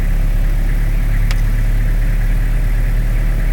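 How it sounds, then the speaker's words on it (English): A Toyota car engine idles steadily during a jump start, a loud, even, continuous rumble with a brief faint click partway through and no talking. "it is a Toyota, and you will just let it idle like this for about 5 to 10 minutes"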